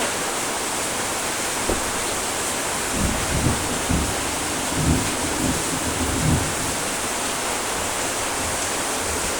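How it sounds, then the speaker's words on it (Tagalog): Heavy rain pours in a dense, constant hiss during a storm, with several low rumbles of thunder rolling through in the middle. "Kulog, kidlat, at napakalakas pong ulan."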